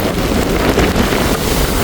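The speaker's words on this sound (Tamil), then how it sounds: "கடுமையாக வந்து காற்று கடுமையாக அடித்து கொண்டு இருக்குது" Strong cyclone wind roars with surging sea waves on the Jaffna coast, a loud, continuous rush buffeting the microphone with no pauses.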